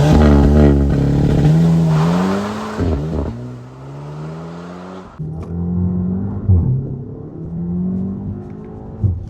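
An Audi TTS launches hard from a standstill on a rainy road, its engine roaring up through the revs in strong rising sweeps, with a sharp gearshift break before it pulls hard again, loud and close.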